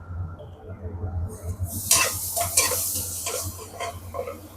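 Curry for mutton bone-marrow (nalli) biryani bubbles and sizzles in a pot while a spoon scrapes and stirs through it, close and moderately loud.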